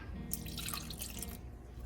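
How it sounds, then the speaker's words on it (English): Half a cup of water is poured into a pot of soup, a short splashing trickle lasting about a second over quiet kitchen background. "And then half a cup of water."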